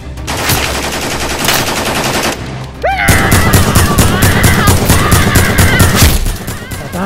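Loud, rapid bursts of automatic gunfire in the Fortnite video game, dense and continuous, briefly shifting into a new volley with whistling, sweeping tones partway through.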